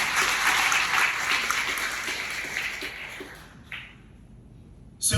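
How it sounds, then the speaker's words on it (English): Audience applause at a school foundation talk, a dense clapping crowd that gradually thins and fades out over a few seconds. "I just want to give another round of applause for yourselves for being here."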